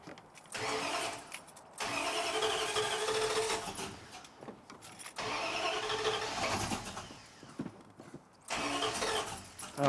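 An old Ram truck engine cranks and catches repeatedly with a struggling choke, bursts of starting and rough idling broken by brief drops to near silence, heard up close.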